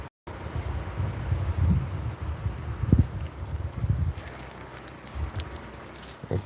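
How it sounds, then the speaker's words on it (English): Gusty, cold wind buffets the microphone outdoors in low rumbling waves, rising and falling over several seconds, with faint rustling in the background. "It's cold and windy"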